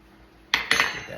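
Potato starch being mixed into a lentil mixture in a bowl, two quick clinking scrapes of a spoon against the dish followed by softer stirring.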